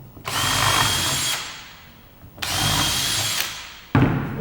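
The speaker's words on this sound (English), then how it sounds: "Always do the pilot hole first" A power drill bores a pilot hole into timber for a wooden planter, two loud sustained bursts of drilling about a second long each, with a third starting sharply at the end; no talking.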